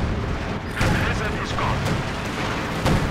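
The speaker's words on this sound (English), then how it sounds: "Another barrage." Artillery barrage in the Company of Heroes 2 strategy game, a dense rumbling run of booms and distant blasts layered over continuous battle noise, with a sharper impact near the end.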